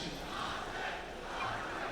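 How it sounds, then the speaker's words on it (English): A large arena crowd at a Dota 2 match at The International 2025 roars and cheers continuously, a dense wash of voices with a slight swell partway through. "we hear the crowd already loving it from Ame"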